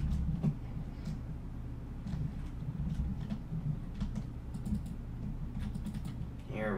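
Computer keyboard typing with steady, quick clicks close to the microphone over a low background hum, with a brief muffled voice near the end.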